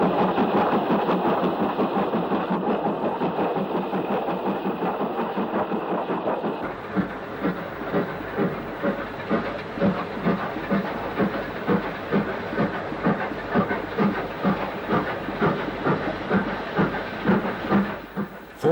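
LMS-era steam locomotive F 48699 hauling a coal freight train, heard nearby with a steady hissing exhaust and then a long run of rhythmic clickety-clack from wagons rolling past over rail joints.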